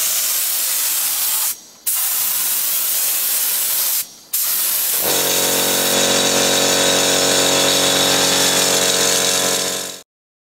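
A spray gun lays lacquer onto an anodized aluminium motorbike subframe: a loud, close, continuous hiss broken by two brief pauses, then a steady spray with a faint humming tone for several seconds before cutting off.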